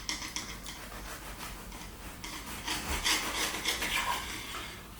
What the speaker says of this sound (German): Ich schneide Kanten jetzt auch nur für euch so schön sauber.